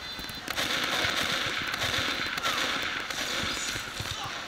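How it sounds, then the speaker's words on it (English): Rapid crackling bursts of sticky bomb explosions in Team Fortress 2, a dense flurry of loud pops and booms over a few seconds with game noise behind. "Oh, and sticky bomb."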